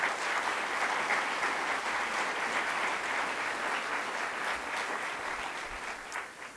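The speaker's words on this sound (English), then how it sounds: "Please, a round of applause for all of them." Sustained applause from a sizable crowd, dense steady clapping that carries loudly throughout and tapers slightly toward the end.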